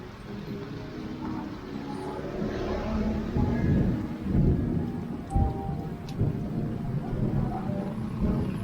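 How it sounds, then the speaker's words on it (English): Thunder rumbles and cracks repeatedly through steady heavy rain in an overlooking area near Antipolo or Angono, the downpour loud and constant with booming peaks. "Wow, it keeps on thunder and lightning."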